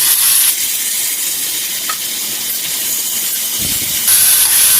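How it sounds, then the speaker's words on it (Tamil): Chopped onions sautéing in a pan give a steady, loud hiss and sizzle throughout, with a brief clatter near the end and no voices. "இப்போ ஆனியன் கொஞ்சம் நேரம் வதங்கினா போதும்"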